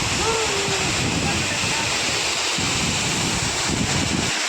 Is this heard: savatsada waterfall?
yes